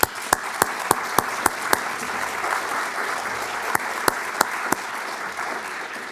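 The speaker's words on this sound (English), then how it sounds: "So let's all give a very hearty applause for Arden Bement." An academic lecture audience applauds steadily, with several loud, sharp individual claps standing out close by over the softer continuous clapping of the room.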